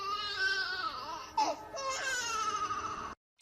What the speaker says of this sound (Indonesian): mereka mendengar suara bayi menangis di semak duri di dekatnya